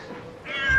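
A cat meows in a Taiwanese cat village, one drawn-out call rising near the end, close and fairly clear over soft outdoor background.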